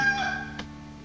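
A single rooster crow rings out, drawn out and fairly clear, trailing off into quiet.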